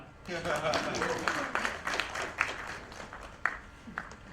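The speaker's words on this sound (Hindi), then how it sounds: "ताली बजाओ." Scattered audience clapping at a Hindi film trailer launch event, uneven sharp claps that rise and thin out, fairly faint beneath someone speaking and other voices.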